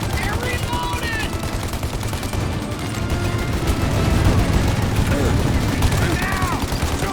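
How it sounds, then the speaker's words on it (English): Gunfire erupts in a Mafia: Definitive Edition shootout, with rapid bursts of shots and machine-gun rattle over a dense rumbling background, while voices shout during the firefight. "Shoot now while we got the chance!"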